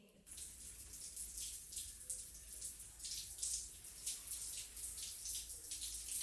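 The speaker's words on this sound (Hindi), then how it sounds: "फिर तोड़ने के बाद मशरूम बेड पर थोड़ा पानी छिड़कें।" Water sprinkled onto an oyster mushroom bed of paddy straw, a soft continuous hiss and patter of spray that holds steady and faint throughout, with no voices.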